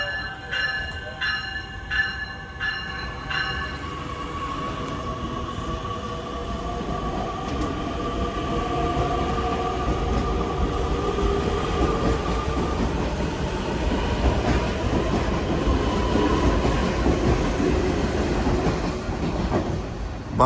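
A Metra Electric commuter train, number 825 bound for University Park, passes Kensington station in Illinois with a steady loud rumble and rail clatter, a brief beeping or bell pattern at the start, and no talking.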